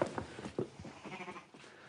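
A ewe bleats during shearing on a sheep farm, a few faint wavering cries repeating under steady background noise and handling sounds.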